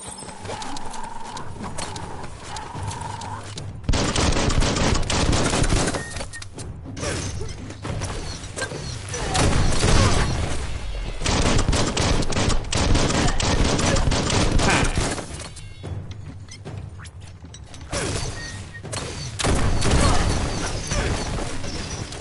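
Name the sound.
gunfire in the video game Biomutant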